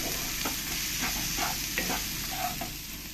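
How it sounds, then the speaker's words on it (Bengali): Turmeric and spices being stirred into onions frying in a pan, with a steady sizzle under repeated scraping strokes of a spoon, close and continuous, with no talking. "হলুদটা ভালো করে আমি আবার মিশিয়ে নেব পেঁয়াজের সঙ্গে।"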